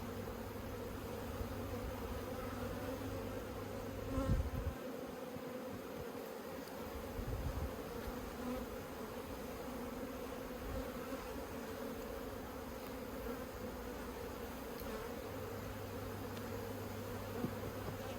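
Honey bees in a top bar hive buzz in a steady, low drone throughout an inspection, with a couple of brief handling knocks and rustles near the start and no speech.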